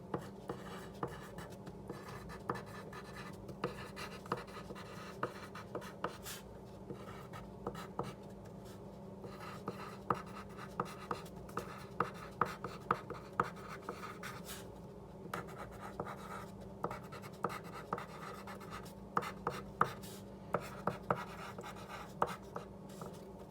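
A colored pencil crayon scratches across paper while someone writes, a quiet, close series of light strokes and taps in irregular bursts over a faint steady background hum.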